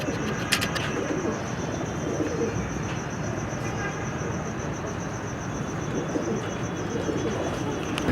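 Domestic pigeons coo and flutter in a loft in Lahore, a dense continuous backdrop of soft cooing with faint chirps, fairly close and steady throughout.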